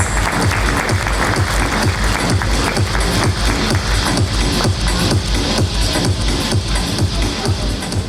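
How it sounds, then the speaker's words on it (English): A large audience at a real estate conclave and awards evening bursts into a big round of sustained clapping to welcome a speaker, dense and steady throughout with no talk over it. "Can we please welcome him with a big round of applause?"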